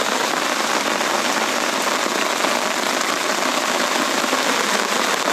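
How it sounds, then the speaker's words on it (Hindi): Heavy overnight rain pouring down steadily on a garden of potted plants and brick rubble, a dense, constant hiss of drops close by with no pauses and no voices. "क्योंकि अभी भी बारिश चालू है, पूरी रात बारिश हुई है।"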